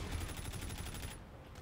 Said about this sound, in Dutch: We gaan even op dat ding schieten.